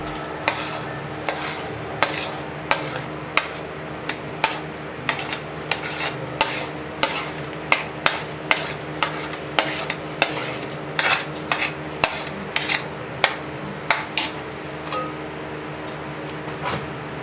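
Onions stirred in hot ghee in a pan, a steady low sizzle under sharp, regular scraping clinks of a spoon against the metal, repeating every second or so, close and fairly loud, with no talking.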